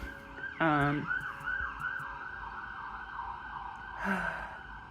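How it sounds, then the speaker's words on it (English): A siren wails in a rising and falling pattern at a moderate distance, with a brief sigh-like voice sound near the start. "Don't mind the sirens."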